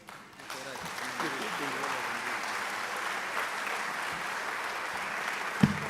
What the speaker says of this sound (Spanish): Fuerte aplauso para nuestro hermano William Soto Santiago.